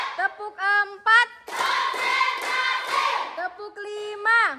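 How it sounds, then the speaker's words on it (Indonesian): Classroom students clapping in a counted rhythm as a teacher calls out numbers, short bursts of claps alternating with her voice in a small room. "Tepuk 1, tepuk 2, tepuk 3, tepuk 4,"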